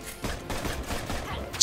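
Gunfire in the co-op video game Full Metal Furies, rapid repeated shots in quick bursts at moderate loudness, with a voice talking over them.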